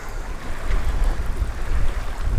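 Wind blowing over open water from a pedal-drive fishing boat while bass fishing, a steady loud low rumble of gusts buffeting the mic with faint wave wash beneath.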